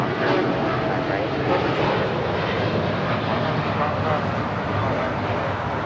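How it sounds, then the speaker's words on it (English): A Japan Airlines 787-8 Dreamliner departs from LAX, its jet engines a loud, steady broadband roar that fills the whole stretch while a voice talks over it. "This is Japan Airlines Flight 61 taking off to Tokyo Narita on a 787-8 Dreamliner"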